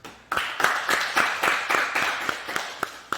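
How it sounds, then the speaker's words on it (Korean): Congregation at a New Year's Eve church service clapping together in a steady, even rhythm, about a dozen distinct unison claps after a brief silence, moderately loud in a room. "그럼 여러분 모두를 위해서도 박수"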